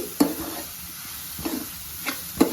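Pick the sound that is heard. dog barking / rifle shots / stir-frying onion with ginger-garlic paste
stir-frying onion with ginger-garlic paste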